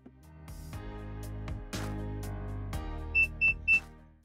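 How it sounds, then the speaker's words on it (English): Tooltop ET828 Pro multimeter sounds three short, clear electronic warning beeps in quick succession near the end, as the input voltage exceeds 25 volts, following several soft clicks and thumps. "When exceeding 25 volts, the multimeter gives a warning signal."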